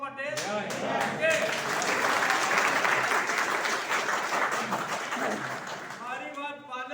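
Loud applause fills a business seminar hall for several seconds, with a speaker's voice audible at the start and again as the clapping tapers off at the end.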